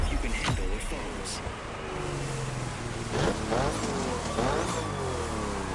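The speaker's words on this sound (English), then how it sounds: "That rev, that's pretty cool." A car engine revs hard in The Crew Motorfest as a race ends, rising and falling through several loud surges. Someone talks over it throughout.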